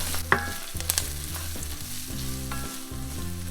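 Coarse and fine gochugaru chili powder gets stirred in a hot pot for spicy beef soup, a soft steady sizzle with scraping strokes and a few light clinks, over a faint tonal hum and no voices.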